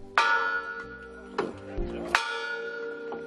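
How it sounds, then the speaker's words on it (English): A large church bell that survived the bombing of a Southern black church, rung at a civil rights anniversary, strikes three times at intervals, each stroke a bright metallic clang with a long, humming decay. "the King family heirs rang a bell that joined bells across the country"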